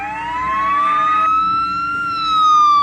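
A police car siren from the video game Bathtub Universe wails loudly and close, a rising then sustained electronic tone that shifts pitch partway through and holds steady, alone without speech.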